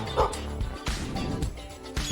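A dog in a puzzle game scene gives a few short, sharp barks and yips, close and fairly loud, spread over about two seconds against a busy background.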